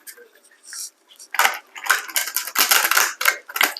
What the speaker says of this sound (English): I'm not riffle shuffling them or arching them. I'm just letting them fall.